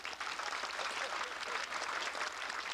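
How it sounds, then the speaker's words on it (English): Brief audience applause for a musician at a Mackinac Island, Michigan presentation, a short steady patter of clapping hands, fairly faint and lasting under three seconds. "Let's have a round of applause for Dan."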